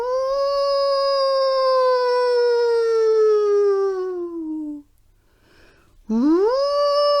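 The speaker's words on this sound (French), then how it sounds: "Soudain, on entend le hurlement sinistre d'un loup qui vient de la forêt voisine." A wolf howls from a nearby forest: a long, loud, sliding howl that falls in pitch and fades, then after a short silence a second howl begins rising sharply, close and clear with no talk over it.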